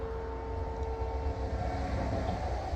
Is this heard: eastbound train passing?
yes